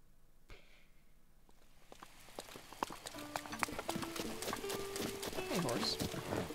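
Rhythmic horse hoof clip-clops in Breath of the Wild, steady and moderately loud, with some background sounds layered underneath and no speech.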